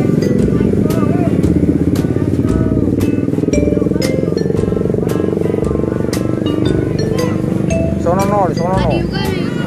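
A motorbike engine drones and rattles loudly on a busy street, its steady rumble mixed with clinks, horn-like tones and people talking nearby.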